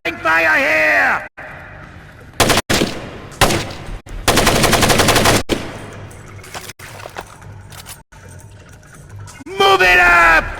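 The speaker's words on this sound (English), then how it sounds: "Little covering fire here!" Covering gunfire in Splinter Cell Chaos Theory: several loud bursts of automatic fire come in short and long volleys, with voices calling out between them and at both ends.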